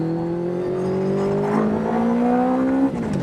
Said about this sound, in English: the exhaust note that comes from this is so throaty